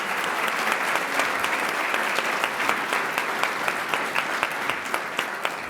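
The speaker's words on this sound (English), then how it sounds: "I think we should show it by giving our sponsors and underwriters a nice round of applause" Sustained applause from an audience at a public conversation event, honoring sponsors and underwriters; dense, steady clapping with a few sharper claps standing out, continuing throughout.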